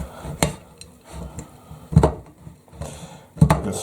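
Firm mature cheddar is rubbed against a hand grater over a plate, giving three separate scraping, knocking strokes spaced about a second and a half apart, close and fairly loud, with no talk.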